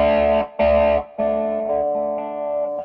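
A distorted electric guitar plays through a TWA Triskelion distortion pedal, sustained crunchy chords with two short gaps before ringing out for a longer held chord.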